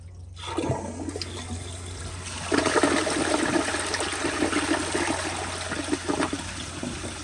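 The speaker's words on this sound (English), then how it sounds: "here is a handle held down flush" A 2022 Kohler Highline round toilet flushes with the handle held down: a long, steady rush of water that swells into a louder surge partway through and keeps draining close by, over a low background hum.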